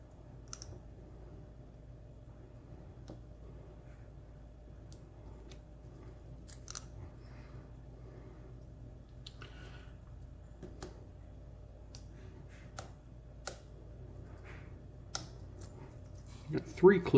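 Faint, sparse metallic clicks and small taps come from an American Lock Series 30 padlock as its pins are picked, heard very close over a low background hum with no talking.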